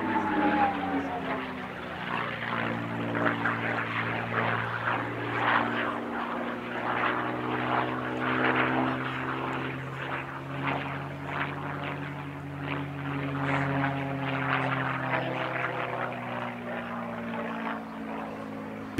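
Propeller engines of the Rolls-Royce Heritage Flight aircraft drone loudly and steadily at the RAF Cosford airshow, a sustained roar with shifting harmonic tones as the aircraft pass overhead.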